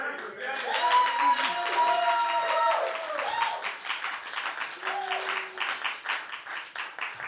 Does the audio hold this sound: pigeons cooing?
no